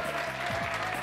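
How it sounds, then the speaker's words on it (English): Audience at the EC 2022 Vampire Savior tournament applauds a champion from Japan, a steady wash of clapping filling the hall over a brief moment with music underneath. "everybody stand up, give this man a round of applause"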